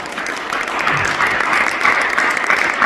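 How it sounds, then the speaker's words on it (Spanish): A church congregation at a Sunday service claps together in steady, sustained applause, a full, even roar of many hands filling the room. "Den un aplauso al Señor."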